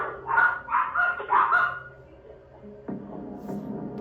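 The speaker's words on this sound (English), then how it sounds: "them dogs sound like them little chihuahuas or like little Pomeranians, like them little lap dogs" Small dogs such as chihuahuas or Pomeranians yapping in three quick bursts, fairly near and loud, with a lower rumbling background noise picking up afterward.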